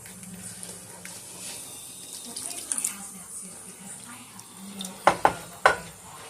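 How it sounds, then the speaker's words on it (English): A spoon stirs homemade gravy in a pot while water is poured in slowly, a soft steady swish with a low hum beneath, then a few sharp clinks of metal against the pan near the end. "You just add my water slowly as I stir."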